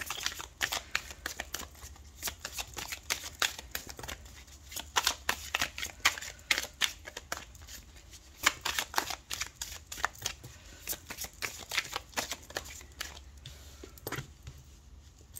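Tarot cards are shuffled steadily by hand in a quiet room: a dense run of soft, papery riffles and brushing clicks that goes on without a break and without any voices.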